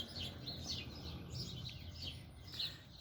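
Small birds chirp and tweet in quick repeated bursts around a garden bird feeding tree, faint and a little distant over soft background noise.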